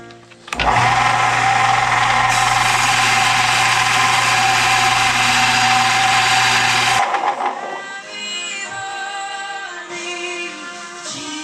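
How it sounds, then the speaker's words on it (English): A small belt grinder smooths a rough rebar fire poker with a loud, steady, close whine for about six seconds, then it cuts off and spins down into quieter ringing. "I'm going to smooth it out on this little belt grinder dealio"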